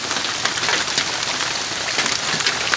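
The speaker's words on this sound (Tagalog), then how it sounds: "Basa kami sa ulan." Rain pours steadily outdoors at a rural hunting camp, drops drumming on a surface close by in a continuous, even hiss with scattered louder taps and no voices.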